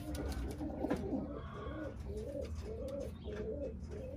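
Birmingham Roller pigeons coo repeatedly in a cage, a steady series of soft, rolling low coos heard fairly close, with a few faint chirps and light background noise.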